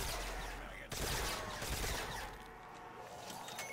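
Gunfire from a weapon in Call of Duty: World at War custom zombies mode, a dense rapid fusillade of shots with a sharp burst near the start, followed by continuing game noise.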